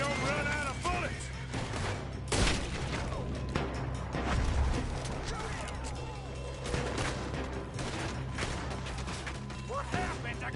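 Gunfire in a robbery shootout in the video game Red Dead Redemption 2: dense, continuous shots and crashes stacked under a busy, loud mix of music and effects, with a few heavier booms standing out.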